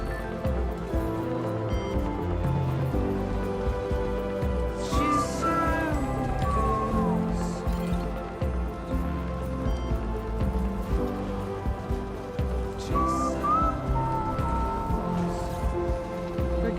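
Steady rain patters down without a break in Death Stranding 2, mixed with a low game rumble and a few faint whistling tones, and no one talks over it.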